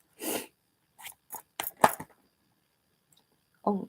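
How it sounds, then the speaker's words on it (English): Tarot cards being shuffled by hand at close range, several short crisp riffling bursts separated by brief pauses, quiet overall with no talking. "let's go ahead and shuffle"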